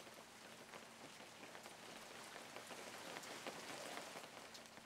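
Rain from a piano sample library, a steady soft wash of dense droplets pattering on a surface, faint and continuous throughout with no voices.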